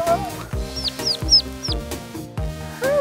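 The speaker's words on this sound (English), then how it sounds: "Check out this turkey." A wild turkey clucking in an open field, a series of short, repeated clucks with some higher yelps in between, fairly close and clear, with no talking.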